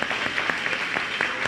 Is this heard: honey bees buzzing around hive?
no